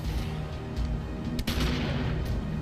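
Gunshots in the video game Eternal Darkness: a steady, booming low rumble with a few sharper reports, one sharp crack standing out midway.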